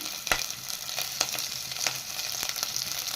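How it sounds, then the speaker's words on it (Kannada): Crushed garlic, green and dried red chillies and curry leaves frying in hot oil for tomato rice, a steady close crackling sizzle with a few sharp pops and spatters throughout. "ಇದನ್ನೆಲ್ಲ ಚೆನ್ನಾಗಿ ಫ್ರೈ ಮಾಡ್ಕೋಬೇಕು"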